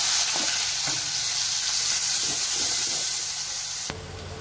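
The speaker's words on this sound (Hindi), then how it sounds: "ये प्याज हमारी भून रही है" Onions fry in a pan with asafoetida and cumin for pindi chole, giving a steady, close sizzle with a few soft stirring knocks and scrapes and no talk.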